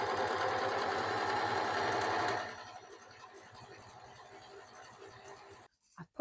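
Sewing machine stitching elastic onto a leotard, running loud and steady at first with a fast mechanical needle rhythm, then slowing to a quieter, uneven whir before stopping near the end.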